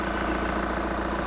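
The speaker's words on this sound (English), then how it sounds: "Now hopefully you'll hear the engine note change and notice the change on the waveform." A car engine runs with its EGR being reconnected, giving a steady mid-pitched hum and vibration with a faint regular pulse, close and continuous, with no voices.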